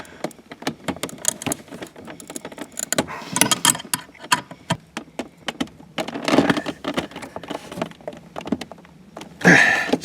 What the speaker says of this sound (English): now I'm going to tighten this plate down before we put the shifter in place